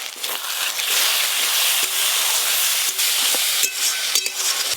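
Spices with grated tomato, turmeric, chili powder, salt and cumin frying in a pan: a loud, continuous sizzle close up, broken by the scraping knocks of a spoon stirring the mixture.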